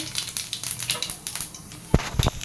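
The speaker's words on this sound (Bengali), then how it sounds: "তেল গরম হয়ে গেছে এর ভিতরে এখন দিয়ে দিব জিরে" Cumin seeds crackle in hot oil as a tempering, a close run of quick sharp pops and spits over a sizzling hiss, with a few louder bursts toward the end.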